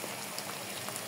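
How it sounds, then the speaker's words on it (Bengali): Garlic cloves sizzling in hot oil in a pan, ready for dried fish and eggplant, giving a steady, dense crackle and hiss throughout with no voices. "এগুলো একটু ভাজিয়ে নেব রসুনগুলো"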